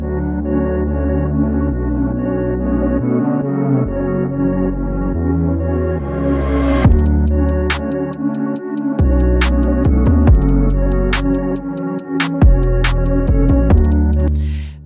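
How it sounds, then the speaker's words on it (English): A steady electronic beat with deep bass and drums, joined partway through by sharp, rapid percussive hits layered over the groove. "So I have a beat that sounds like this."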